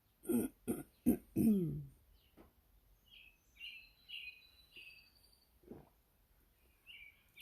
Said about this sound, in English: What I wanted you to hear was the birds